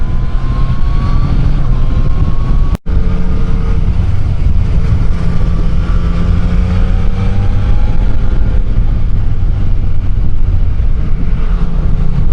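Yamaha Niken three-wheeled motorcycle accelerating, a loud steady engine drone with rising tonal whine from the rider's position, briefly cut by a short dropout, then continuing strongly.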